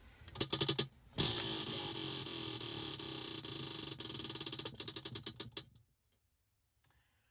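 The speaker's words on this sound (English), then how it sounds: "let's go ahead and spin the wheel for our 4th and final stitch" A clicking prize wheel spun by hand: a rapid, dense ratcheting rattle that starts fast, slows into separated clicks, stops, then gives one last faint tick.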